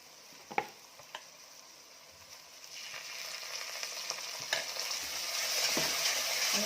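Roasted ground coconut paste being stirred into a frying masala for Kolhapuri mutton rassa: a few sharp spoon taps, then a sizzle that swells and grows louder under continuous scraping.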